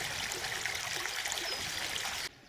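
Steady, broadband rushing of Skeeby Beck, a small North Yorkshire stream affected by a pollution incident, flowing close by without pause until it cuts off abruptly near the end.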